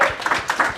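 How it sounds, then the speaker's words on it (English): An audience at a business planning seminar applauds in a short, dense patter of clapping that swells and fades within a moment, with nobody speaking. "Appreciate the applause back."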